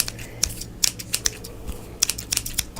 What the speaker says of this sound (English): I'm just gonna like trim some excess hairs